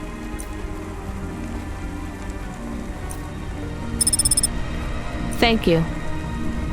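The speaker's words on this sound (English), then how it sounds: "Don't let all the rain get you down." Rain falls steadily in the video game Cloudpunk, a constant hiss that runs the whole way under brief electronic chimes and a short line of talk.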